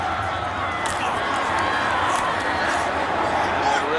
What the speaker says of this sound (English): And this crowd is not happy.